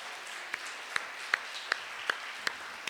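A church congregation claps during a Portuguese-language worship service: steady, evenly spaced claps about every 0.4 seconds over a faint wash of broader applause, moderately distant and fairly quiet.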